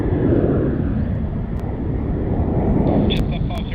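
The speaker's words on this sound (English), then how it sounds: "Reverse thrust on that A380 nearly maxed out my volume actually." An Airbus A380 uses reverse thrust while landing at Sydney Airport. It makes a loud, continuous, rumbling roar that fills the whole clip with little change.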